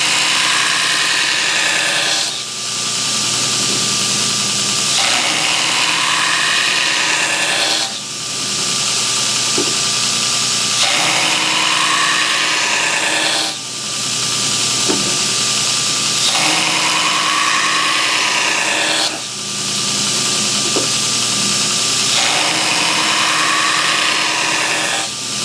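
A knife blade being ground on a belt grinder, a loud steady high-pitched abrasive hiss that repeats in several passes of about five seconds each, with short dips between passes and no talk.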